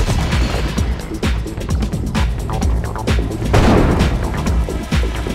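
Booming cannon shots from the real-time strategy game Mental Omega during a 4vs4 multiplayer match, repeated loud blasts and bursts of fire layered densely over game effects, with a heavier cluster of impacts near the end.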